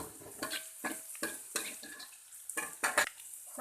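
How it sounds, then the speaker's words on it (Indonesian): Eggs and seasoning whisked in a bowl for a green bean omelette, a quick rhythmic series of soft clinking strokes up close, with faint background hiss. "Seperti ini kita kocok sampai bumbunya tercampur."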